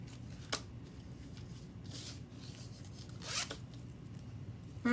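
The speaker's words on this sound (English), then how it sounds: "Got my zipper pull on." A clothing zipper pull is worked during sewing, with a few quick, faint zipping rasps spaced apart over quiet low room hum.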